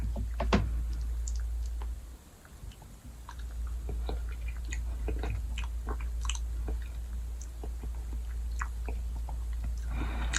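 Someone chews Arby's white cheddar mac and cheese close to the mic, soft wet mouth sounds and small smacks repeating steadily over a low background hum, with no talking.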